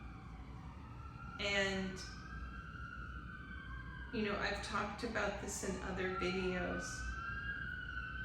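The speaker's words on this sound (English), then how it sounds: "Sorry about the sirens," Emergency vehicle sirens pass outside, rising and falling wails heard faintly in the background under a person speaking indoors, with a second swell of siren tones partway through.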